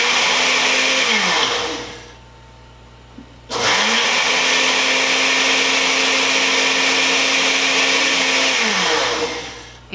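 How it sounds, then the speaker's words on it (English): A Ninja blender purees partly thawed frozen strawberries in two loud sustained runs, the first stopping after about two seconds and then starting again after a short pause and running steadily until the end. "I think it'll be okay in my Ninja blender."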